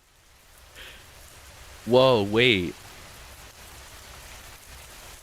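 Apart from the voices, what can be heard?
blood rain falling in The Butterfly, video game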